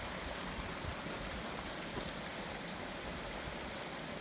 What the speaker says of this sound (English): this is where the hiking trail comes across North Cheyenne Creek